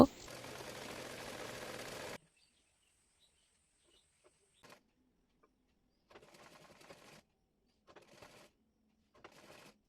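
A sewing machine stitches a hem on scrap fabric for a child's frock, running in short separate bursts with quiet gaps between them after a stretch of talking at the start.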